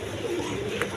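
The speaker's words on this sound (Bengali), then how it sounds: "এইখানে এক পেয়ার লাহোরি কবুতর আছে" A Lahori pigeon gives a single brief, low, throaty coo at close range against a steady background hum.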